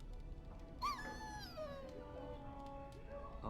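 A dog whimpers and whines in a Dragon Age: Origins scene, a few rising and falling plaintive cries over low background ambience, fairly faint and without talk.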